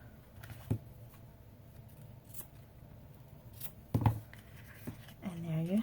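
Scissors trimming the ends of paper ribbon on a Halloween treat holder, a few faint quiet snips spaced apart, with a voice speaking briefly at the end.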